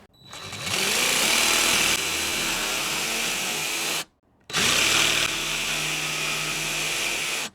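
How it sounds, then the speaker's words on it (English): A jigsaw cuts notches into jon boat flooring in two loud buzzing runs separated by a brief stop, its motor whine steady and close, with no talk. "I'm just gonna use a jigsaw to kind of cut in"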